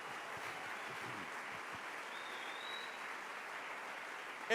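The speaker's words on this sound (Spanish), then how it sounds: "Denle un aplauso bien fuerte al Rey." A church congregation applauds at a Spanish-language service, a soft, even wash of many hands clapping together at a distance, continuous and muffled, with a louder sound at the very end.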